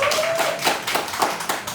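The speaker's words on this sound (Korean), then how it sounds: "박수 좀 부탁드리겠습니다" Brief clapping from a small crowd at a People Power Party provincial council candidacy press conference in Jeju, a quick patter of hand claps with faint voices underneath.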